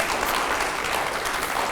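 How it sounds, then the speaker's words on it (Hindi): A studio audience at a televised Hindi interview show claps in sustained, dense applause at a steady, fairly loud level with no voices on top. "जोरदार तालियां हो जाएं"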